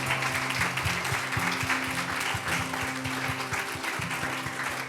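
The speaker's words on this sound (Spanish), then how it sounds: "Un aplauso fuerte a nuestro Dios una vez más." A church congregation applauds loudly and continuously in a dense, sustained wash of clapping with a rhythmic pulse underneath, lasting throughout.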